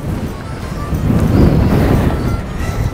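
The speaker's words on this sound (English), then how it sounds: "because it is just so windy and stuff" Heavy storm wind buffets the microphone at a caravan site, a loud low rumbling roar that surges and swells throughout without letting up.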